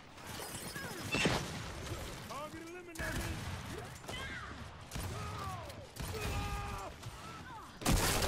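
Gunfire in the Gears 5 video game, bursts of loud shots and mechanical clatter recurring across the clip, with someone speaking and other game sounds mixed in.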